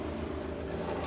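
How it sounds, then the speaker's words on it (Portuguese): A helicopter passing overhead gives a steady, moderately faint low rotor drone with a rhythmic throb, heard during a brief moment with no talk. "O helicóptero passando aqui."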